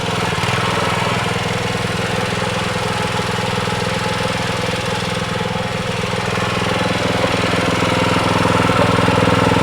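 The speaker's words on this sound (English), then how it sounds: "so we'll see how the new motor does." A rototiller fitted with a new motor runs loud and steady at close range, a continuous rough engine drone with knocking texture that holds level for the whole stretch, without any talking.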